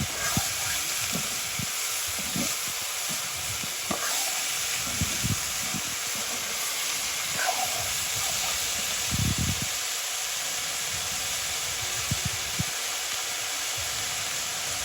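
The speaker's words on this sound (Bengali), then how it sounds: "আলুগুলো সিদ্ধ হয়ে আসছে, তো এখন দিয়ে দিচ্ছি সিমগুলো।" Beans go into a pan of boiling potatoes, giving a steady, close steam hiss broken by occasional soft bubbling bursts and light clinks, with no talking.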